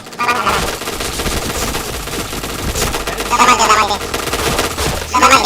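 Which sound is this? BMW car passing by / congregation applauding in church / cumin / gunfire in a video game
gunfire in a video game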